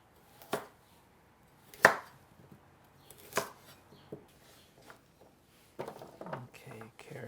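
A knife chops carrots on a cutting board in a home kitchen, a handful of separate sharp knocks spaced a second or more apart, then a quicker cluster of cuts near the end.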